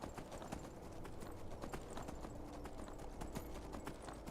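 Hooves clip-clop in a quick steady gallop rhythm as a horse is ridden through cold terrain in the video game Skyrim, loud and continuous with no talking.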